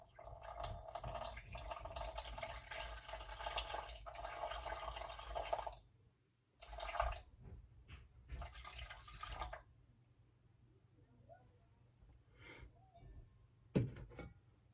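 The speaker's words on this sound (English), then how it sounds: "To our dry sourdough starter, we're gonna add 130 grams of water." Warm water pours from a container onto dry sourdough starter, with bursts of close trickling and splashing broken by pauses and a few faint drips and clinks.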